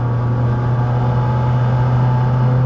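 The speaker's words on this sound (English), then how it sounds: "See the McLaren rattle" A McLaren 600LT rattles over a loud, continuous low engine drone heard close up from inside the car. The hum stays steady and there is no talk.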